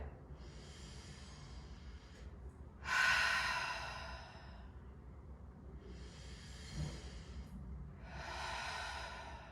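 Slow, deep yoga breaths taken close and alone: long airy exhales and inhales, each lasting a second or more, separated by quiet pauses, with a soft low room hum beneath.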